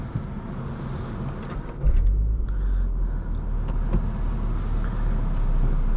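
A 2023 Subaru BRZ Premium drives at night under a low engine hum with road noise, which turns louder and deeper about a third of the way in as the car pulls away and keeps a steady drone.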